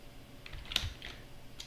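A few quick clicks on a computer keyboard at a Linux terminal, soft and close in an otherwise quiet room.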